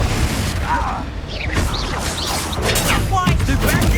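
Confringo fire spell blasts in the video game Hogwarts Legacy, a dense run of bursts, booms and crackling impacts over busy combat noise, with a voice shouting during the fight.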